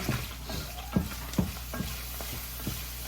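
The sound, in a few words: ground beef browning in a pan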